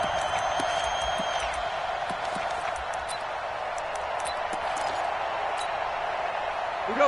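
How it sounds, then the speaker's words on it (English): A stadium crowd in an American football video game keeps up a steady, broad roar of cheering from start to finish, loud and continuous with no talk rising above it. "And this crowd loves it as their guys hold on the opening drive."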